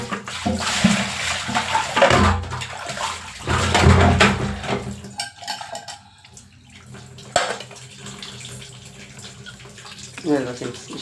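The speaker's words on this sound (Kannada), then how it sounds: "ಇಷ್ಟು ಪಾತ್ರೆನ ವಾಶ್ ಮಾಡಿದ್ದೀನಿ" Dishes and pots are washed under a running tap, water gushing and splashing with clinks of utensils in uneven bursts, quieting midway before resuming, with a voice speaking at times.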